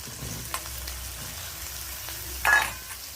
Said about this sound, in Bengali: তো চিংড়ি মাছ আর পেঁয়াজ বেশ ভাজা ভাজা হয়ে গেছে।